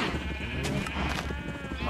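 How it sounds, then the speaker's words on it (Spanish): Minecraft sheep bleat in a noisy, steady chorus, several calls overlapping and layered under a voice speaking throughout. "Todos son ovejas."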